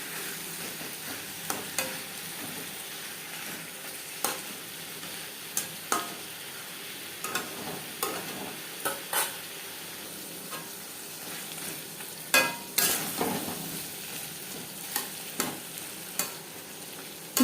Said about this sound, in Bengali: মাছের তেলের সাথে বেগুন বেশ ভালো করে মিক্স করে দেবো।